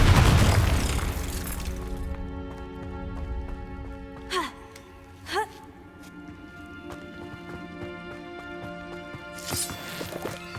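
Casting the Confringo fire spell in the video game Hogwarts Legacy sets off a deep boom at the start, followed by two short whooshing bursts and a later crackling flare over sustained ambient game tones.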